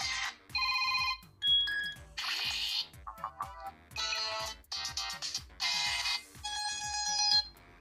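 A series of different ringtones on a Figi Note 11 Pro smartphone play one after another, each a short burst of bright electronic chimes and tones separated by brief gaps.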